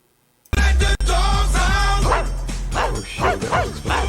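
Several dogs bark and yip loudly and continuously, close by, after a moment of silence at the start, joined by whimpers and a faint jingle.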